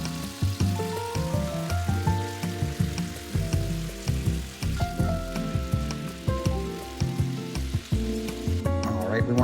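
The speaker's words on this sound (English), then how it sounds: "We're also going to put the pieces of beef chuck for searing." Pieces of beef chuck searing in olive oil on a hot comal, a loud, continuous crackling sizzle with popping spatter running throughout, layered with tonal background music.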